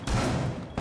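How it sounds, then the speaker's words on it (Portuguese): A loud, close burst of gunfire rings out in the video game Rainbow Six Siege, a sharp blast with a brief trailing rumble. "a Patrícia pegou um tiro free"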